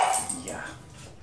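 A small fluffy dog at a vet, sedated yet still agitated, gives short yips and whimpers at close range over ongoing background noise.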